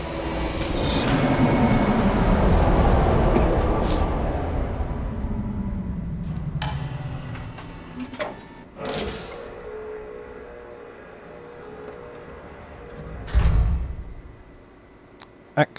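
In the game Riven, a rail car rumbles into a station, loud at first with squealing wheels, then it slows and fades into quieter clanks and thumps, while a voice talks over parts of it.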